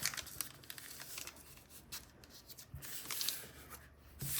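A paper bag being folded down over itself while crafting a glued paper-bag book: close, continuous crinkling and rustling of stiff paper with soft creasing scrapes, no voices.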